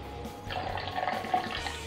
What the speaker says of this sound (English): I pour the vinegar, or acetic acid,